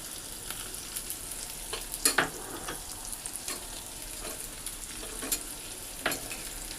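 Onions and tomato fry with turmeric and salt in a pan for flattened-rice pilau, giving a steady close sizzle broken by a few sharp scrapes and clinks of stirring, with no talking.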